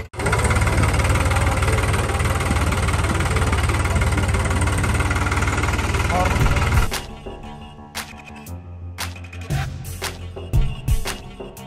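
A tractor engine runs loud and close with a steady, rumbling, knocking drone for about seven seconds, then cuts out, leaving scattered clanks and knocks at a lower level.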